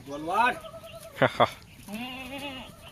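Kathiawari goats bleat nearby in loud, wavering cries, one at the start and another drawn-out bleat near the end, with a short sharp call between.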